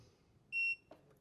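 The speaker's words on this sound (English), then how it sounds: "hold down the Wi-Fi button for 3 seconds until I hear a beep" A single clear electronic beep, about a quarter second long, from a Neakasa M1 robot vacuum after its Wi-Fi button is held down, close and alone in a quiet room.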